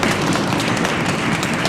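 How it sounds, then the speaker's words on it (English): A group of people stomping their feet as part of a body-percussion rainstorm, a dense, continuous patter of thuds and taps at steady loudness, no voices. "And now stomp your feet too."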